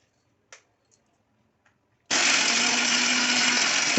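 Mixer grinder jar crushing small pieces of rock candy into powder: a loud, steady grinding whir starts abruptly after a few faint clicks and runs on continuously to the end.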